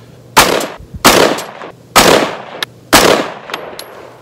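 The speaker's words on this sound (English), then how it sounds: "I'm going to fire off just a couple of test rounds" A PSA AR10 rifle chambered in 6.5 Creedmoor fires four loud, sharp test shots about a second apart, each with a decaying tail, followed by faint distant echoes or impacts.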